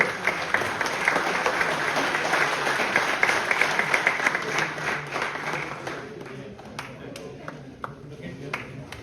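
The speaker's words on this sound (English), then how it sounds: "The sound of clap is going very low." Applause from a university conference audience at a valedictory session, a dense wash of many hands clapping steadily that thins out toward the end, with scattered claps lingering.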